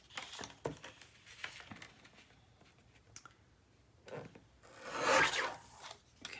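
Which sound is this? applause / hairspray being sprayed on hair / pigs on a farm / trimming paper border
trimming paper border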